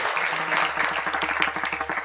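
Audience applause at a comedic Marathi kirtan, a dense continuous patter of many hands clapping for about two seconds, fairly loud, with a sustained tone running underneath the first part.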